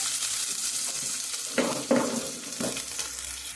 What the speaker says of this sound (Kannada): ಪೇಸ್ಟ್ ಹಾಕಿದ್ಮೇಲೆ ನೀಟಾಗಿ ಈ ಥರ ಸೌಟಿಂದ ಕೈ ಆಡಿಸ್ಬೇಕು